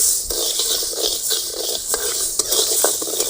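Green moong dal is dry-roasted in a pan, the dry lentils scraped and rustled by a spoon in steady, repeated strokes, with a gritty, rattling texture close by.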